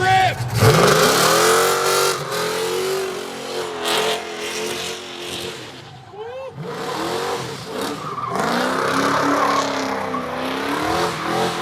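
A 1963 Pontiac Grand Prix is driven hard at a drag event, its engine revving loudly in rising and falling pulls with tire squeal. After a brief dip, a second strong surge follows and carries to the end.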